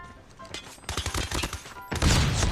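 Rapid bursts of PDW-57 submachine gun fire crackle loudly in Call of Duty Mobile, with dense automatic volleys building to a sustained heavy burst at the end.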